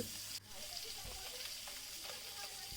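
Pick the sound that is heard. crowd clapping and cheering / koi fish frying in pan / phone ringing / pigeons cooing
koi fish frying in pan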